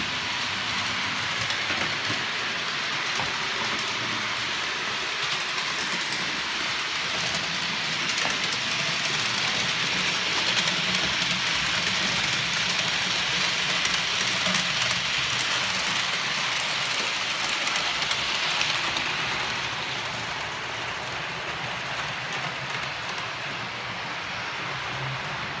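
Trains pass at Long Dyke junction as a continuous, fairly loud rolling rumble lasting about twenty-five seconds, with rain falling at the same time.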